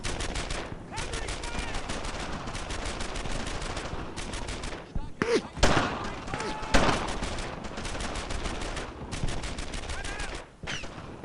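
Sustained WWII gunfire in a Brothers in Arms battle, dense rapid machine-gun bursts and rifle shots rattling almost nonstop, loud and close, with a few louder cracks and shouted voices mixed in.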